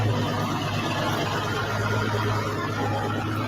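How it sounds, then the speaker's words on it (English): A vehicle engine running, heard as a loud, steady, close idle drone with a low hum and even texture throughout, with no talk. "That engine sound."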